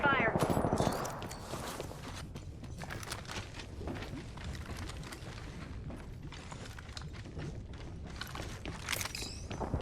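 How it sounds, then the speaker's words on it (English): Gunfire in Apex Legends Season 14, with bursts of weapon fire and mechanical clanks during a match, moderately loud, with an in-game voice speaking briefly over them. "Opening fire."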